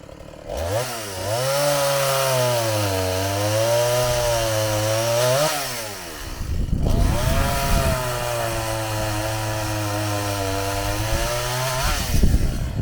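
A chainsaw drones loudly and steadily, its pitch dipping as it bites into wood, pausing briefly before a second long cut.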